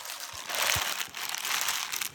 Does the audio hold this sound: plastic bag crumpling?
yes